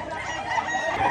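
A large fighting rooster crows nearby at a gamecock market, with a short, harsh, strained call over faint background noise.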